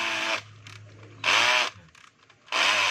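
A DeWalt DCD710 10.8 V cordless drill whirs loudly up close in three separate bursts, each run a steady high-pitched motor whine, with short quiet pauses between them.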